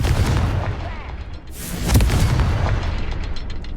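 A Confringo fire spell explodes in Hogwarts Legacy, a loud booming blast that swells near the middle of the clip over a dense rumbling game soundscape, with no talk.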